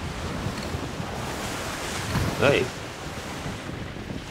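Steady wind and ocean surf wash through a sailing scene in the pirate game Skull & Bones, a constant roar with a brief swell midway while someone speaks briefly.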